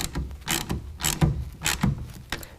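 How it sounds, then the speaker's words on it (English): Ratchet or wrench snugging down a clamp on a TruXedo Pro X15 tonneau cover rail on a 2019 Chevy GMC 1500 bed, several short clicking bursts in an irregular rhythm, close and fairly quiet. "we'll take a 1/2 inch wrench or ratchet, snug it down just a little bit"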